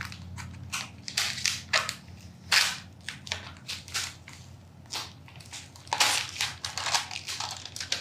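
Parchment paper peeled back from layered craft vinyl gives a run of close crackling, crinkling tears in short bursts, loud and dry, with no talking.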